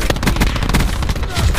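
Dense, rapid gunfire from a Call of Duty match fires continuously through the clip, sounding like overlapping automatic bursts and shots, loud and close, with faint voices mixed in.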